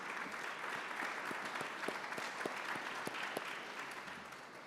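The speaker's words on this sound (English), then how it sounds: "So a round of applause for the awards committee." A banquet audience at a golf association awards dinner applauds the awards committee: soft, distant-sounding clapping that holds steady, with individual claps standing out.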